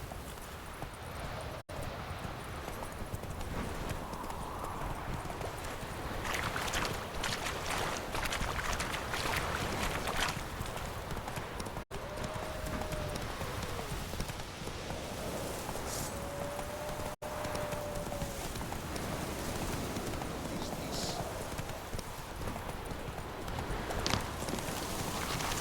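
In The Witcher 3, the horse Roach gallops with steady hoofbeats under wind and ambient game sound. The clip-clop is moderately distant and continuous, with faint whistling tones drifting through.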